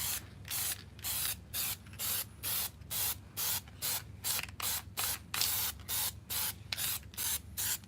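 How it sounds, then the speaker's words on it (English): Fabric dye sprayed from a can at medium setting onto black stretch suede trim pieces for Infiniti G37 coupe pillars, sounding as a steady series of about twenty short, even hissing bursts with brief gaps, close and alone. "It has low, medium, and high, so you can actually adjust how you want to spray."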